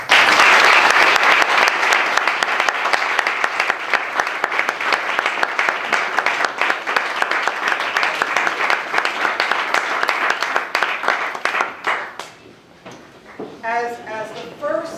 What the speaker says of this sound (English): So I would like us to applaud them.